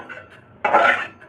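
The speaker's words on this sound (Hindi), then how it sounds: "इनको हम निकाल लेते हैं एक बर्तन में।" Roasted carom seeds and spices being tipped into a metal vessel for mango pickle: one loud, close metallic clatter and scrape lasting about half a second, with quieter clinks before it.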